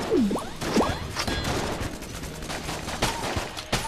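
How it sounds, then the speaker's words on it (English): Rapid gunfire from the twin-stick dungeon shooter Enter the Gungeon, a dense spray of shots with sweeping pitch swoops and sharp bursts, loud and continuous throughout. "Shoot this guy in the face a few times"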